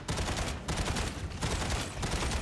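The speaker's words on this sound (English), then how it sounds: "I get incoming fire again" Incoming gunfire from combat mechs in Mech Arena, a steady crackling fusillade of rapid shots that runs for a couple of seconds with brief gaps, at moderate distance and fairly quiet.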